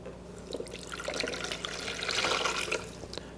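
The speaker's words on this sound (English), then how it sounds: "I'm going to mix the water and the yeast together first." Water and yeast stirred together in a bowl for poolish baguette dough, giving soft sloshing, trickling liquid sounds with light clinks, close and fairly quiet, without talk.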